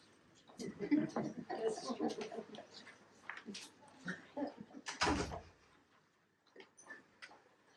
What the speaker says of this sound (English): I am going to close the door though because I'm distractible